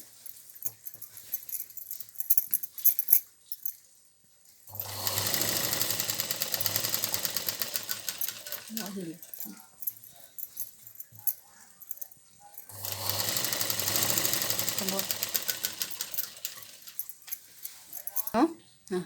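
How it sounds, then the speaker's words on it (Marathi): A sewing machine stitches a petticoat hem in two sustained bursts of whirring, each several seconds long, with someone talking between and around the runs. "आता ही मी शिलाई मारते"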